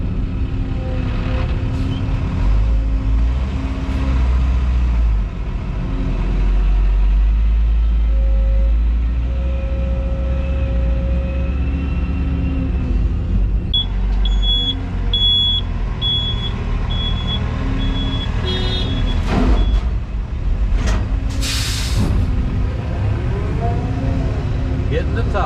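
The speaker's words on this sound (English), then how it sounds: "that is not exactly a truck made for off-road use" A truck engine idles and rumbles steadily at close range for a long stretch at a pond site where topsoil is being stripped, with a brief electronic beep partway through.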